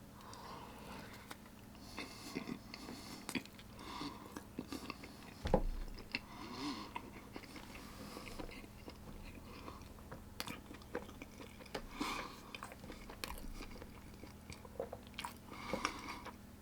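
Someone bites into a chocolate-covered donut and chews it, with faint close crunches and soft wet chewing spread over several quiet seconds, alone without talk.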